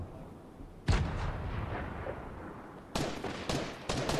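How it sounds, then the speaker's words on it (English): Gunfire in the video game Fortnite: a single sharp shot followed by a fading tail, then a rapid run of quick shots near the end, fairly faint overall. "It's Lucy shooting"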